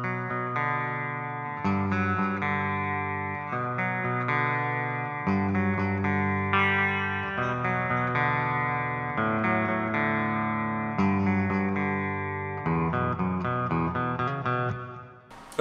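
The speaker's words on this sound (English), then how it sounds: "the last thing on the menu for today is, of course, a clean tone." A clean seven-string electric guitar on the bridge pickup plays chords and arpeggiated notes with a touch of chorus and echo, clear and ringing at moderate volume.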